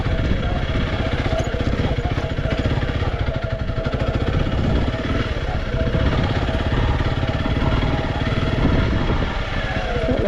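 Honda CRF300L Rally motorcycle working along a rough single track, its engine note churning steadily and loudly for the whole stretch with a constant throb and wind noise, no clear pauses.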